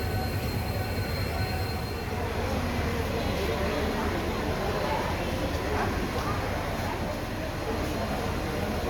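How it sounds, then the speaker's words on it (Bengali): The Shree Jagannath Express, hauled by WAG-7 locomotive 39184, pulls out on schedule with a steady, close rumble of rolling wagons and faint wheel squeal running throughout. "ট্রেন কিন্তু সময় ছাড়লো একদম রাইট টাইমে।"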